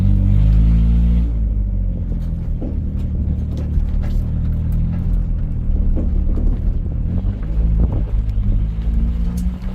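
A 1990 Toyota Tercel on a test drive, its engine a steady low rumble with road noise throughout, rising slightly in places as the car moves along, loud and close from inside the cabin.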